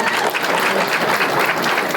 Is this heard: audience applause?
yes